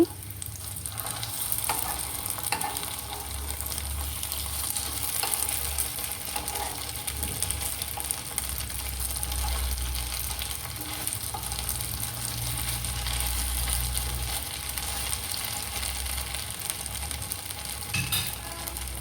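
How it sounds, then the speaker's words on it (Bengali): Banana peel fritters fry in a covered pan with a steady, continuous sizzle and crackle that runs unbroken throughout, close and moderately loud, with no talking. "কিছুক্ষণ রান্না করব যাতে ভাজা হয়ে যায়"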